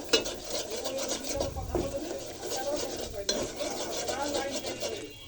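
Flour frying in soybean oil while a utensil stirs it, making a continuous close scraping rasp over a low sizzle, with rhythmic strokes throughout.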